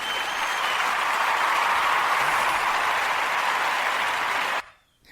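A burst of steady crowd applause, dense and even, runs for a few seconds and then cuts off abruptly into near silence.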